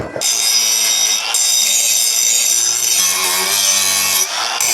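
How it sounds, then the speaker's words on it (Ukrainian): An angle grinder fitted with a classic A24N stripping disc grinds metal. It makes a loud, continuous, harsh whine and roar with slight shifts in pitch as the disc bites, close up and without talk. "Почнемо з класичного зачисного диска. А24Н."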